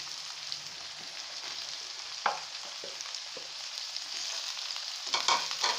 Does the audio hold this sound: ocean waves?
no